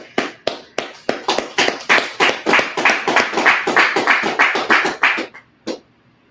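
An audience at a Sabbath service in Las Vegas claps in a brisk, steady burst of sharp hand claps that swells, then trails off into a few scattered claps, close and loud, with no talking.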